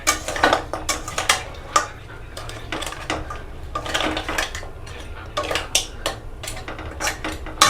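Crab being stir-fried slowly in a pan, a utensil clattering and scraping against the metal in quick irregular strokes, near and steady with no talking.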